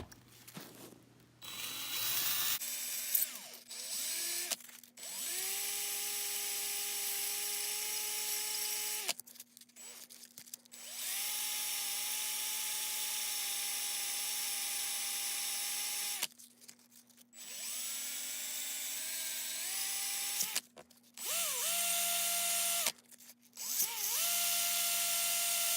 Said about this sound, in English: then I'm going to stick in my drill and basically just sand it off and work on it for a while